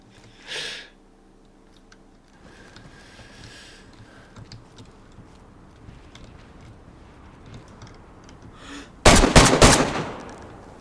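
A quick cluster of loud gunshots in the survival game DayZ rings out near the end, after a stretch of faint background noise and a short earlier pop.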